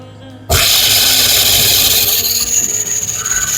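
A Samsung DV80M5010QX clothes dryer motor kicks in abruptly and runs with a loud, harsh, abnormal whirring rumble that stays steady and close, with no talking over it.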